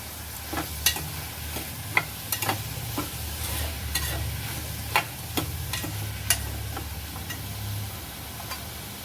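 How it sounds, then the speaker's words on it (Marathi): Carrots and other vegetables sautéing in a pan for millet (bajra) khichdi, a steady low sizzle with a scattering of sharp spatula clicks and scrapes against the pan, continuous throughout with no talk. "छान हे सगळं परतून घ्यायचं आपल्याला"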